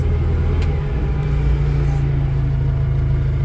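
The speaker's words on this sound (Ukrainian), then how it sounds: "Тормоз, навантажувач сам їде, автомат працює як треба." A Toyota 8FG50N gas-powered forklift with 5-tonne capacity rolls along on its own, giving a steady low engine hum and rumble, close and continuous throughout.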